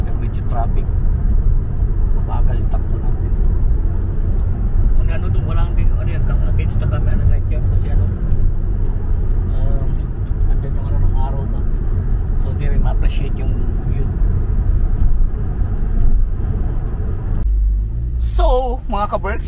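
A car creeps along in slow, congested traffic just off the motorway on the way into the City of Liverpool, with a steady low road rumble filling the cabin and faint voices and small interior noises in the background.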